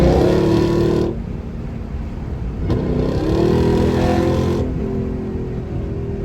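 A Dodge Hellcat Redeye accelerates hard through traffic on a country road, its loud, close engine note surging, easing off at one point, then climbing again in a sustained roar.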